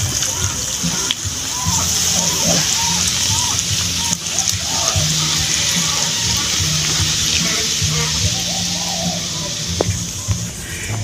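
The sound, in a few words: pouring beer into the cooking pork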